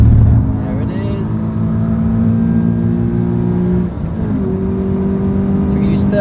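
A Subaru BRZ engine pulling hard on a race track, a loud sustained drone from inside the car that steps down in pitch briefly as the gear changes, then climbs again, with talk over it.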